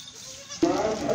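A young cross-breed goat, about one and a half to two months old, lets out a single short bleat close by, rising sharply partway through.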